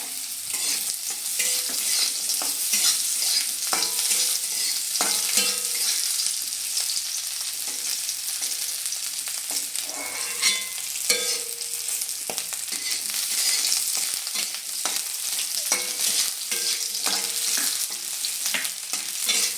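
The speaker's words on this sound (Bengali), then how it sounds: "এবার আমি এর মধ্যে সব সবজি ফ্রাই করে নেব। প্রথমে আমি দিয়ে দিচ্ছি কেটে রাখা গাজর," Sliced carrots and other vegetables fry in hot oil in a pan over a medium flame, a loud continuous sizzle broken by frequent scraping strokes of a spoon as they are stirred, with no talking.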